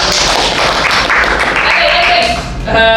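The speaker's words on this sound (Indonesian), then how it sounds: "Oke, tepuk tangan kita semua" A high school class claps together in a busy burst of applause that continues under a lively room, with voices mixed in before a brief swell at the end.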